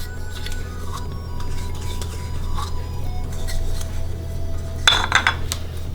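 A spoon stirs yogurt into semolina dough in a bowl for chola bhatura, giving light, scattered clinks against the bowl over a steady low kitchen hum, with a brighter cluster of clatter near the end.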